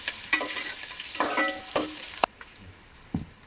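Onions and curry leaves hit hot oil in a pan while a Tamil fish curry is made: a bright sizzling crackle, broken by stirring scrapes and clinks, then the hiss drops quieter toward the end.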